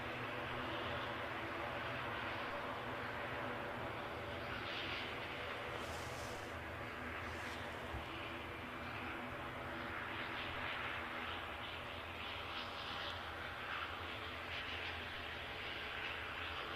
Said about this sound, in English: the Ryanair departure appears to be going first